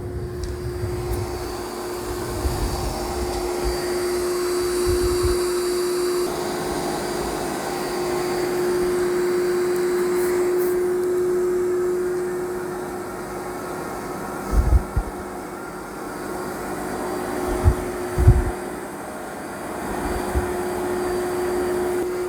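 A Dyson Spot+Scrub AI robot vacuum on boost works across a room floor in a crisscross second pass, giving a loud, steady motor whine with a few brief thumps and bumps near the end.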